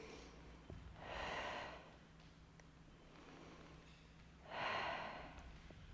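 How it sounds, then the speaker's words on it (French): Pilates breathing, two long, forceful exhalations through the mouth about three and a half seconds apart, each a broad airy rush heard close, with quiet room tone between them. "Pensez à votre respiration de pilates"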